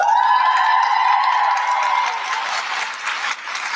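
Applause from a commencement audience at a summer graduation ceremony fills the hall, a steady wash of clapping that fades slightly toward the end, with a sustained tone ringing over it.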